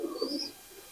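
A single teddy pigeon, a Pakistani breed, gives one short low coo nearby, fading quickly into a quiet room.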